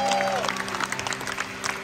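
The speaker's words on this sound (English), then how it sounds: "Let's clap our hands for our God" A congregation claps hands at a live worship concert, with scattered, fairly soft claps over lingering music and crowd noise, heard briefly.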